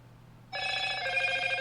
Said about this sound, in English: this phone just going crazy today.